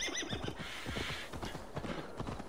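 A horse in Assassin's Creed Valhalla gives a whinny amid a steady run of clip-clopping hooves, the neigh and hoofbeats close and clear against a busy game backdrop.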